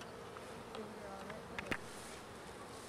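A disturbed swarm of honey bees buzzes at a hive being moved in northeast Washington, a steady insect drone throughout with a few brief louder rustles and knocks near the middle, and faint voices in the background.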